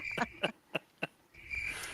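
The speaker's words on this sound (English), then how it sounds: "Where's the crickets?" A cricket-chirping sound effect: a few sharp, high chirps in quick succession against a quiet background, followed by a brief rustle.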